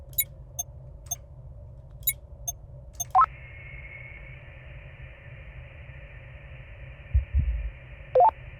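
A low, muffled heartbeat thumps once near the end in the space exploration game Voyager-19, over a steady droning hum with scattered soft electronic beeps and a sustained tone.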